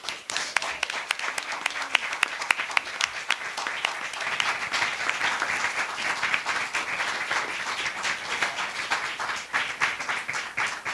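Audience applause welcoming Congresswoman Alma Adams at an evening event: steady, dense clapping from a crowd, continuous for the whole stretch.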